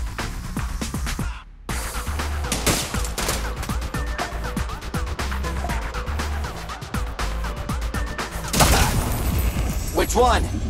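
Video game gunfire in Zenless Zone Zero rattles in dense rapid bursts for most of the stretch, with a brief drop out near the start and a louder blast toward the end, layered over game music.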